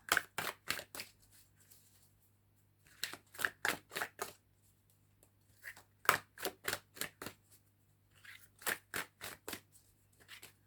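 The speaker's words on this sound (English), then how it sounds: "These are hard to shuffle. These cards are so big." Bursts of crisp, rapid riffling and flicking of oversized cards come in several clusters with brief pauses, close and fairly quiet.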